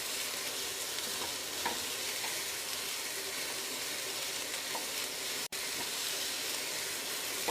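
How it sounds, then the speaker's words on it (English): Leeks frying in a pan for a chicken and leek pie, a continuous close hiss and sizzle with soft scraping from stirring, one brief dropout midway, no talking. "keep stirring to avoid them sticking"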